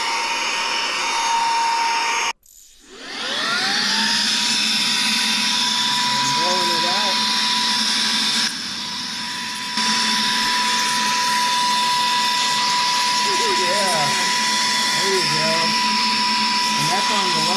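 A Saker 3-in-1 handheld vacuum cleaner runs steadily on its low speed setting, starting with a quick whoosh after a short gap and then holding a loud, even whir with a steady whine, while a voice speaks faintly underneath.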